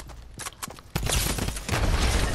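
Rapid gunfire bursts in the video game Fortnite, a few sharp shots early and then a loud, sustained barrage of close shooting filling the second half.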